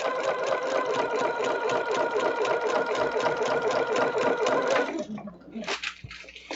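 Sewing machine stitching scrap fabric French roses, a close, steady whirring run for about five seconds that stops abruptly, followed by quiet handling noises.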